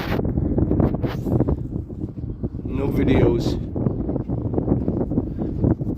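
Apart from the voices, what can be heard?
strong wind outdoors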